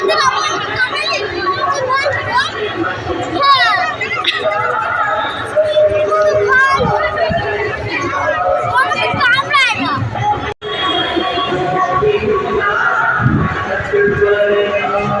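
Dense crowd chatter with children's voices and laughter fills the air at a Rathyatra festival beside a royal palace gate, a steady close-up murmur of many people with overlapping talk.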